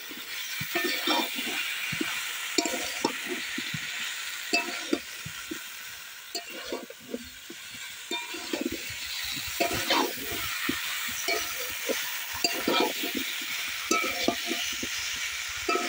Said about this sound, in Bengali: এঁচোড় আর আলু দিয়ে কিন্তু মশলার সঙ্গে আরো একটু ভালো করে কষিয়ে নেব